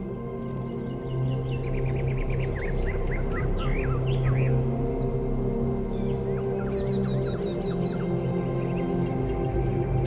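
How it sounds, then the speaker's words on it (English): Birds chirp and twitter outside the dome in the video game The Talos Principle 2, with scattered bright calls over a steady low ambient hum. "Do you hear the birds chirping outside the dome?"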